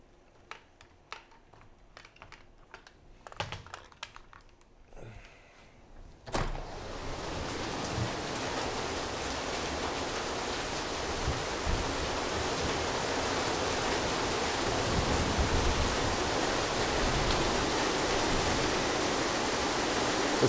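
Hail falls outdoors, starting after a few scattered taps and turning into a dense, steady hiss of pellets hitting surfaces that continues evenly, with no talk.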